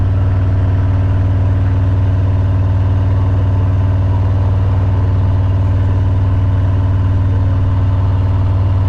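Harley-Davidson motorcycle engines rumble steadily at a rally, a deep continuous low throb with even loudness throughout and no voices.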